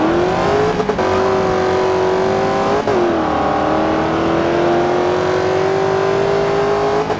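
Racing Mustang, a 302 Foxbody, accelerating hard in Forza Horizon 2 street racing, with a loud, steady engine note that climbs, dips at a gear shift and climbs again, sustained and up close throughout.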